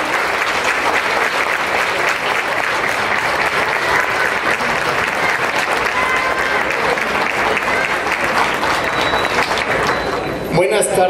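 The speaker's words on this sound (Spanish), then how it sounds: "demos un gran aplauso" Audience applause at a book fair talk with an author, sustained loud clapping from a full room that holds steady for about ten seconds before breaking off abruptly.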